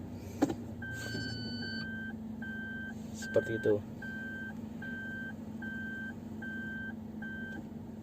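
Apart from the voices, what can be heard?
automatic car shifted into reverse, reversing beeps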